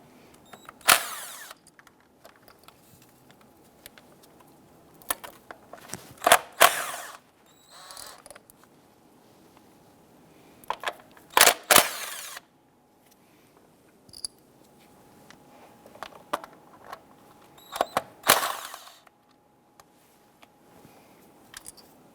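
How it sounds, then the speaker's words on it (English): A 10mm socket wrench working ignition coil bolts on a 2008–2013 Nissan Rogue engine, heard as short bursts of clicking ratchet strokes and metallic creaks separated by quiet gaps, close and fairly loud. "Use your 10mm socket. We're going to remove the 4 bolts holding our ignition coils."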